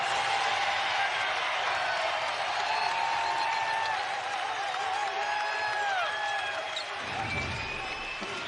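A basketball arena crowd swells into steady cheering and roar as fans rise to their feet, with sneaker squeaks on the court and faint commentary underneath.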